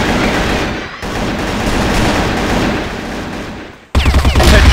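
Rapid automatic fire from the M4A1-Elite rifle in the shooter game CrossFire, a dense sustained burst of close, loud shots for several seconds, a brief gap, then another sharp volley.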